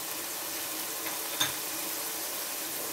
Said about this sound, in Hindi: हल्के हल्के से फ्राई होना स्टार्ट हो गए।